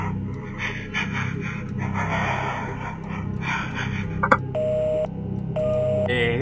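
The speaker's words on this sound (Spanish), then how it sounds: "¿Pero qué clase de respiración es esa?" Heavy, rhythmic breathing comes through a phone line in the horror video game Evil Inside, with a thin, filtered quality and a few steady electronic beeps near the end.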